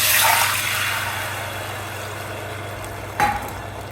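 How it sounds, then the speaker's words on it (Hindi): Water poured into a hot pan of shallow-fried cashews, cumin and rice gives a loud rushing sizzle that fades into a steady hiss, with a brief splash or clatter near the end. "उसके बाद डाल दूंगी मैं इसमें राइस। पानी साथ ही डाल दूंगी।"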